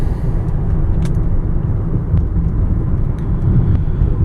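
A 2000 Lexus ES300 Platinum Edition on a test drive gives a loud, steady low rumble of road and engine noise from inside the cabin, with a few faint clicks and ticks over the continuous drone.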